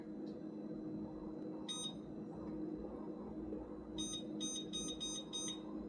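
A kitchen timer chirps in a kitchen while a lentil pizza bakes, with one short burst of beeps and then a quick run of about five sharp beeps over a low background hum.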